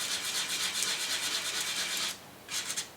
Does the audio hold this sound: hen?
no